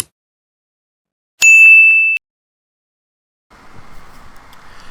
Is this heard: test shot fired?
no